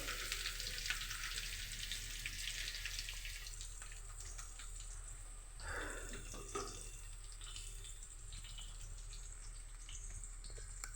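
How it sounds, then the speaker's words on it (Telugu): Onions frying in oil with cumin seeds in a pan, a steady loud hiss and crackle throughout with a brief stirring scrape midway, no voices. "ఆనియన్స్ వేసుకొని ఇలా కొద్దిసేపు ఆయిల్లో ఫ్రై చేసుకోవాలి"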